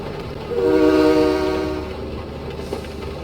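Train in the game Train Mechanic Simulator 2017 running along with a sustained horn blast that swells and fades, over continuous rolling rail rumble and a faint click near the end.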